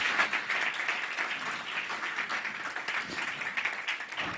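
An indoor audience at a medical conference gives a steady wash of applause, many hands clapping together at an even level for the whole few seconds, with no break or lull.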